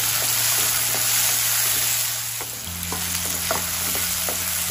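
Chopped tomato goes into softened onions and asafoetida in a pan, giving a steady sizzle with a clear scraping stir and a low hum underneath, no voices.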